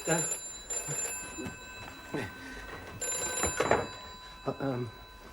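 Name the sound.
telephone ringing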